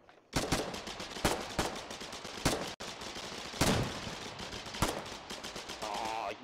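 Gunfire in the Foxhole video game, with bursts of machine-gun and rifle shots cracking out in irregular volleys against a constant background of distant battle noise, loud and close.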